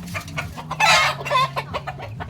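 Roosters scuffle close by in a sparring match, with sharp wing flaps and clucking bursts in quick succession, one loud flurry standing out midway.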